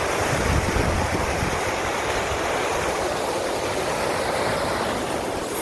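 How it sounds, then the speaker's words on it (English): A steady, full rush of flowing water fills the whole stretch, constant and fairly loud with no pauses or voices. "Flowing water sounds wonderful, looks wonderful, and has a great vibration."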